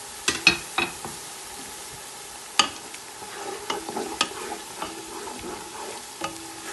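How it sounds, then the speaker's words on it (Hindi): Spices tossed onto browned onions in a kadhi pakora pan, giving a steady low sizzle with sharp stirring clicks and scrapes of a spoon against the metal, close and alone without any voices. "प्याज अब ब्राउन हो चुका है, अब मैं इसमें मसाले डाल देती हूँ।"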